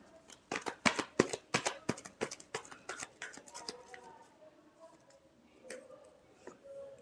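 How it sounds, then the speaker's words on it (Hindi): A quick run of crisp, close riffles and slaps as tarot cards are shuffled, a dense cluster of sharp hits that thins out into softer handling. "Last shuffle."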